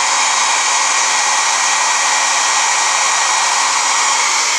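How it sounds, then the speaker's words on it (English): A hair dryer blows on high, a loud steady rushing whoosh with a faint whine, unbroken throughout and close by. "just take your blow dryer on high and you blow dry the back of it till it gets warm"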